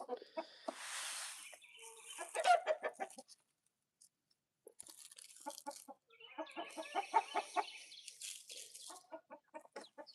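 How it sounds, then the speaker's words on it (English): Chickens cluck in quick, choppy bursts at a moderate distance, pausing briefly midway before the busy clucking resumes. "You can just hear the birds"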